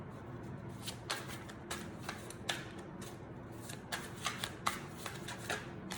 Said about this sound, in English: So side shuffling is easy.